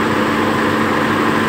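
A Toyota Fortuner diesel engine idles steadily during a black core carbon-cleaning tuning session, giving a continuous low, even rumble with a constant hum and no voices.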